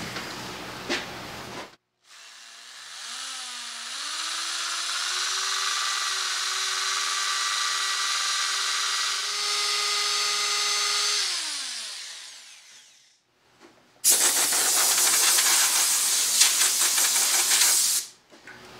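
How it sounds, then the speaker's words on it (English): Sandpaper hisses steadily against a turned wooden bowl spinning on a lathe, with a motor tone under it, followed after a pause by a second, brighter burst of sanding. "I'm just now going to hit it with a little bit of sandpaper to remove my tool marks"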